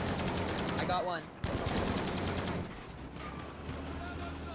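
Tank top-turret machine gun firing in Battlefield V, a dense rapid burst of automatic fire up close, breaking off briefly and then resuming more quietly, with voices talking over the gunfire.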